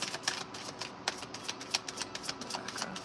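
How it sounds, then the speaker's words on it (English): Tarot cards are shuffled by hand in a rapid run of quiet, crisp riffling clicks and slaps, close and soft, with no talking. "I'll shuffle all fucking day to get one for Rebecca."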